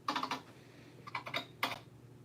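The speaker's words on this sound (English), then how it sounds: "And before I suddenly just get an influx of keyboard sounds." Keys clack on a computer keyboard in quick clustered bursts with short pauses, close and fairly quiet, and no one speaks.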